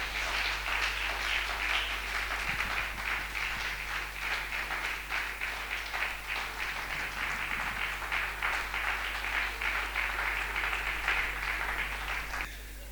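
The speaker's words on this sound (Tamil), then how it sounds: "நல்ல பலத்த கரகோஷத்தோடு நம்ம அவங்கள கனம் பண்ண போகிறோம்." An audience at a family conference gives sustained applause during an honouring ceremony. Dense, steady clapping continues for about twelve seconds, then cuts off, over a constant low electrical hum.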